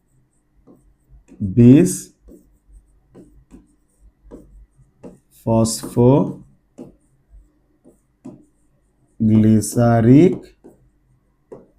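Marker scratches and taps on a board as a chemistry formula is written in short strokes and squeaks, coming in bursts between pauses while someone speaks.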